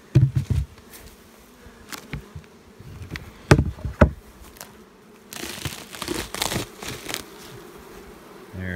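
Honeybees buzz around an open hive during a hive inspection, a continuous close insect hum broken by frame handling clatter, scraping and crinkling knocks.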